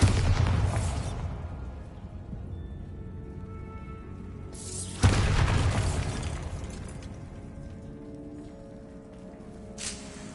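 Bombarda blasting spell in Hogwarts Legacy: two loud booming explosions about five seconds apart, each fading into a long rumbling decay, with a softer burst near the end.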